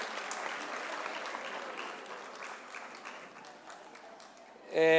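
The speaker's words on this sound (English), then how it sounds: "Again, another round of applause for Usomlomo wethu." Applause from the audience at the official opening of the National Arts Festival 2022, a dense sustained wash of clapping that fills the hall and gradually thins toward the end, with no talking over it.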